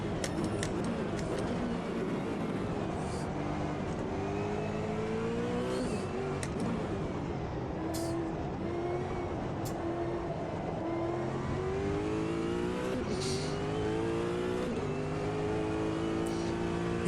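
A supercar engine in the Automobilista 2 racing game revs and pulls under throttle, pitch climbing and dropping through gear changes and corners, loud and steady for the whole stretch with no talking.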